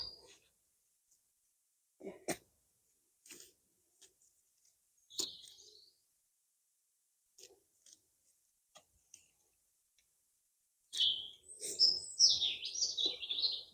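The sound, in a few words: birds singing outdoors in a garden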